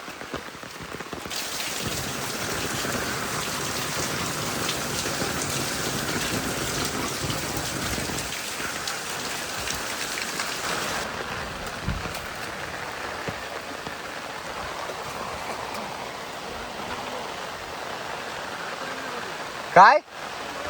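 Rain falls steadily over farmland in the Konkan countryside, a dense continuous patter of drops on surfaces for about twenty seconds that ends with a sharp, loud knock near the close.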